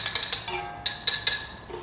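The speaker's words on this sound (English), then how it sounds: "We're going to give this a quick whisk just to mix it up" A whisk striking the sides of a bowl while mixing dry ingredients for pretzel buns: about eight quick, bright metallic clinks in an irregular rhythm, close and clear, with no talking.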